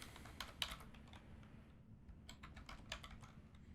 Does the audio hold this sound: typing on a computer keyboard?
yes